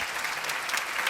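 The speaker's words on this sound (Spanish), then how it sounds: "Un fuerte aplauso para recibir a Esther Bernal" A brief burst of audience applause at a talk on health, diet and emotional wellbeing for older adults, steady dense clapping from a seated crowd, heard a little distant.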